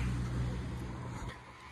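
Truck rolling slowly closer to a roadside stop, a steady low engine rumble nearby that eases off slightly toward the end, with no talk over it.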